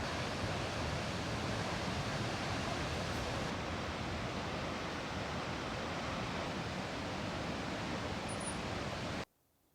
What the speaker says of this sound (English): So here you go, waterfall.